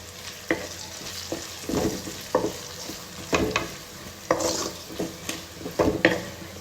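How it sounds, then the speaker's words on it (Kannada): Garam masala and chili powder fry in a pan, hissing gently under repeated sharp scrapes and knocks of a spoon stirring against the metal, close and rhythmic, with no speech. "ಮುಕ್ಕಾಲು ಸ್ಪೂನಷ್ಟು ಖಾರದ ಪುಡಿ ನೀಟಾಗಿ ಫ್ರೈ ಮಾಡ್ಕೊಳ್ಳೋಣ"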